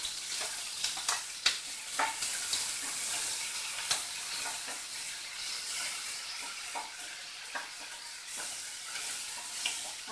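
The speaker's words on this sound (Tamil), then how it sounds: "நல்லா வதக்கி விட்டுருங்க." Close, steady sizzling of onions sautéing in a pan, with occasional scraping clicks from stirring; no voices.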